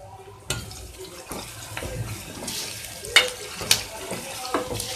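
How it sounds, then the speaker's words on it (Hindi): Sliced onion fries in hot oil with whole garam masala spices: cumin, cardamom, black pepper, cloves and cinnamon. A close, bubbling sizzle with sharp crackles and spatters, plus a few clinks against the pan. "इसे ब्राउन होने तक फ्राई करेंगे।"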